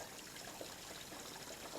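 Waste water trickles steadily from the hose of an RV portable waste tote, a continuous close, even splashing hiss with no voices.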